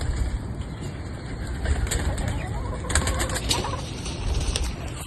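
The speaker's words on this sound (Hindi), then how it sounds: "यहाँ पे कबूतर देखें कितने" Pigeons at a cattle farm coo softly amid a steady rush of strong morning wind, with a few scattered wing flutters and faint mechanical clicks in the background.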